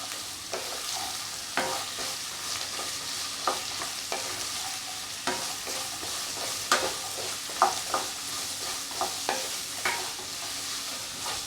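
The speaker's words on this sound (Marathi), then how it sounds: "आता आपण यामध्ये बटाटा टाकून घेऊयात आणि छान असं मिक्स करून घेऊ" Potato is stirred and fried for sabudana khichdi, a continuous close sizzle overlaid by a steady series of scraping and tapping stirring strokes.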